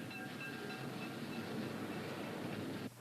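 Freight train on a 265-mile iron ore railroad to the coast, rolling steadily with a close, dense rumble of heavy wagons and faint rhythmic wheel clatter.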